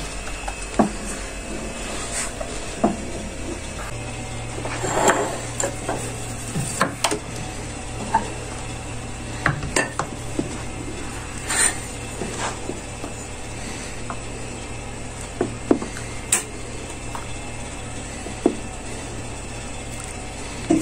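Ceramic bowls of caramel rice pudding set down one by one for the oven, giving sharp scattered knocks and clinks over a steady low hum, with no talk.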